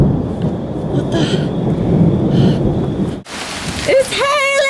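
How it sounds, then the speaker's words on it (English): A dense, steady clatter of hail pelts down loudly, with a brief break before a voice cries out over the storm. "It's hailing!"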